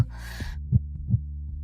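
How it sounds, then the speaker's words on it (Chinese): A fast, pounding heartbeat sound effect in a drama, low thumps repeating at a quick rhythm beneath a brief breathy gasp at the start, with no talk. "你的心跳好快。"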